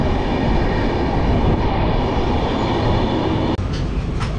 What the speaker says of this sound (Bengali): বোলপুর শান্তিনিকেতন থেকে ট্রেন ছেড়ে দিল আমাদের।